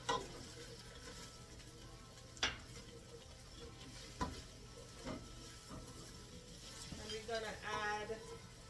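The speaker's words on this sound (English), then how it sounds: "we're gonna saute our onions" About a cup of chopped onions sauté in a little oil for arroz con pollo, a faint, steady sizzle with a few sharp knocks of a utensil on the pan and soft stirring noises.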